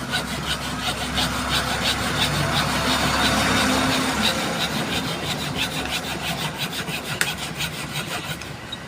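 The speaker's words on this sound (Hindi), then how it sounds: "यहाँ से काटना होगा आरी की मदद से या ग्राइंडर की मदद से। मैं आरी की मदद से काट रहा हूँ।" A hand saw cuts through a plastic part during a fan circuit repair, its quick, even back-and-forth strokes rasping steadily and close by, with no talking.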